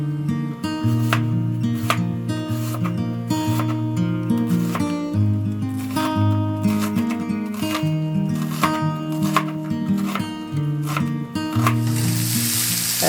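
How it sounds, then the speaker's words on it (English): Slivered onion sizzling in a pan during a one-pot pork stir fry, a steady frying hiss running beneath loud, continuous background music. "And add the onion to the pan."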